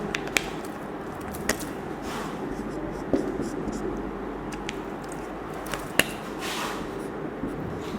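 A teacher writes on a board during an English grammar lesson. Soft, continuous scratchy strokes run throughout, broken by a few sharp taps, with a quiet background.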